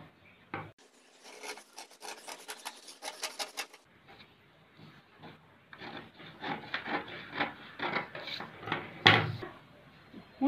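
Scissors cutting blouse fabric along a curve: quiet scraping, rasping snips come in irregular bursts, with short pauses between passes and a louder scrape near the end.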